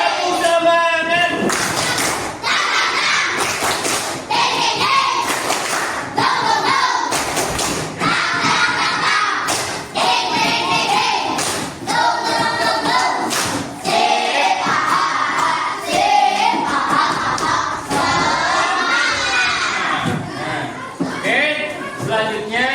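A group of teachers claps together during a coaching workshop on academic supervision. The clapping is steady and loud, with dense overlapping hand claps and thumps running throughout, and voices are heard alongside.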